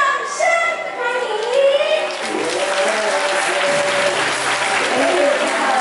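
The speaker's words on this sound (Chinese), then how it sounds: "好，接着请大家给我们掌声，欢迎我们今天最美的新娘一贤以及辛苦的朱妈妈，浪漫登场，掌声欢迎！" Wedding guests applaud as the bride enters, a sustained round of clapping from a crowd that follows an amplified voice and carries on steadily under faint vocal tones.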